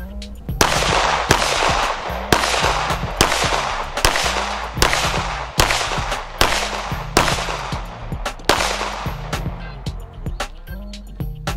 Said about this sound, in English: as you see there in the shooting, I paused around those targets to ensure that I don't shoot an innocent bystander.